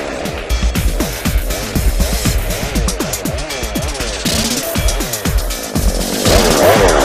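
A Lewis winch's small gas engine drones steadily and loudly as it takes up slack in the cable on a 1000-pound log skidded with a ground anchor, with the engine note wavering up and down throughout.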